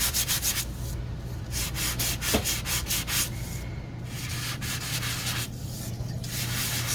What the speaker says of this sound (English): I'm going to take this is a right side up, and I'm going to do a quick sand.